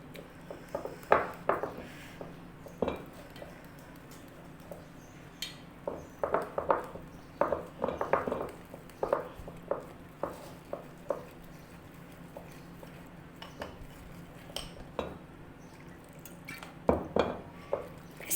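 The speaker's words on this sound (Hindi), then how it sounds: "इसी तरह से हम इसका एक स्मूथ सा बैटर बनाएंगे मिक्स करके।" Paratha batter is mixed in a bowl, with intermittent clinks and scrapes of a utensil against the dish and soft squishy sounds in irregular bursts, close and fairly quiet.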